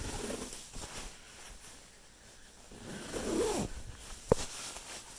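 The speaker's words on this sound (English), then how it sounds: "And then zipping it up" A Klymit KSB 20 XL sleeping bag zipper is drawn up in a few close, raspy pulls, alone and moderately loud.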